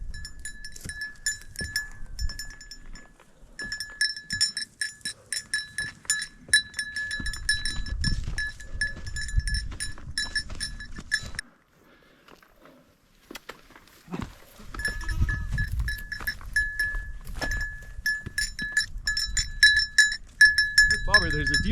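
On a mountain hike, the goat Bobber is heard with a bright, jingling bell that rings almost constantly, alongside rustling movement and scuffing steps, dropping to near quiet for a few seconds midway before picking up again.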